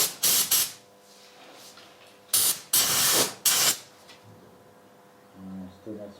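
A paint sprayer on a David Brown tractor fires several loud, close hissing bursts, two short blasts and then a longer sequence of blasts with brief gaps, before quiet and a faint voice at the end.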